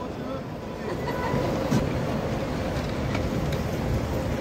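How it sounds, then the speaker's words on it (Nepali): A train rolls slowly along the track, giving a steady, fairly loud low rumble with wind buffeting the microphone throughout. "हामी अब ट्रेन ओहो बिस्तारै बिस्तारै हामी ट्रेन जाँदैछौँ"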